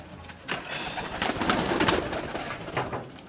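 Pigeons coo steadily at a Faisalabad pigeon loft, several birds layered close by with repeated soft throaty calls and flutters, no talking.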